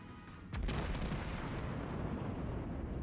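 Naval gunfire from the cruiser Cleveland in a warship video game: a sharp, loud blast after a brief quiet lead-in, followed by a sustained roaring rumble that carries on to the end.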